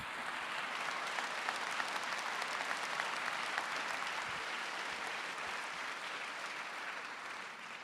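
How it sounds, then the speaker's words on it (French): Sustained applause from the audience at a twentieth-anniversary prize ceremony honoring craftsmanship, a dense, steady wash of clapping that fills the full eight seconds and tapers slightly at the end. "je trouve que c'est le temps de les récompenser par vos applaudissements"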